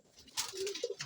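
A fancier's pigeon in a loft gives a soft, close coo, a short low rolling call with a second brief note after it, alone and without talk.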